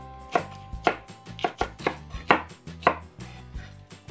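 A knife chops sliced mushrooms and green onions on a board in a rhythmic series of about eight crisp, close cuts, each with a sharp onset and short decay, with no talking.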